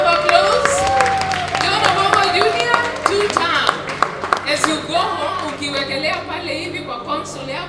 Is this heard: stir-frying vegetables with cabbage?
no